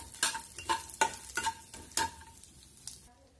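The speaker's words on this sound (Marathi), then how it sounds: "त्याच्यामध्ये आता हा सुकामेवा आपल्याला भाजून घ्यायचा आहे" Dry fruits roasting in a spoonful of ghee in a pan for vermicelli kheer, with about six brisk stirring scrapes over a soft sizzle. The strokes fade to quiet near the end, and no one speaks.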